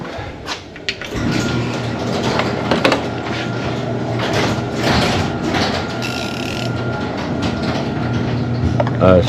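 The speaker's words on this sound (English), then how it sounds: "We'll probably open that door for a second." A door being opened on a 2010–2014 Ford Fusion in a repair setting, a steady mechanical sliding and rumbling with clunks and rattles that runs throughout, close and moderately loud.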